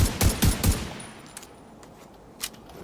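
Automatic gun in a video game firing a quick burst of about four loud, rapid shots, followed by quieter scattered game noise and one more distant pop.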